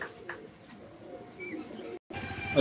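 Pigeons coo softly at close range in a loft among fancy flying breeds, a few low murmuring calls over steady background noise, with a brief high chirp and a short gap of silence near the end.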